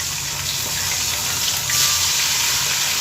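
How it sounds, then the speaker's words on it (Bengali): Parshe fish fry in hot oil for a Bengali mustard dish, giving a steady, close, bright sizzling hiss that holds evenly and swells slightly, with no one talking. "আর ভালোভাবে মাছগুলোকে ভেজে নেব"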